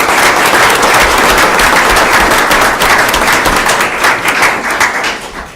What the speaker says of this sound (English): So another round of applause for three incredible,